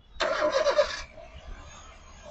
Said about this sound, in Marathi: तुम्हाला इंजिन नॉईस ऐकवतो